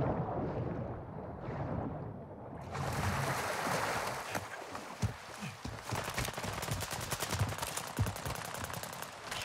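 Gunfire in Warzone 2 season 3, likely from a Cronen Squall, with rapid bursts of shots cracking over a windy, rumbling game soundscape that grows dense and continuous in the second half.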